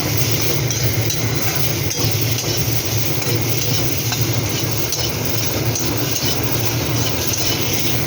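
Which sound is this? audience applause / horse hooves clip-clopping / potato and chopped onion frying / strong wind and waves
potato and chopped onion frying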